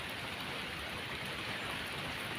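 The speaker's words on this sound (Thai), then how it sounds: "เล่นน้ำฝนนะคะ" Steady rain falling on a cold, drizzly morning, a dense continuous hiss of drops spread evenly across the whole stretch, close and fairly quiet, with no voices.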